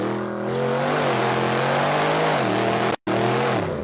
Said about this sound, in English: That is the RS6